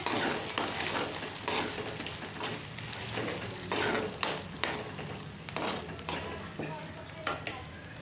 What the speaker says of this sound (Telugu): ఇప్పుడు గోంగూర వేసుకున్నాం కదండి, బాగా కలుపుకొని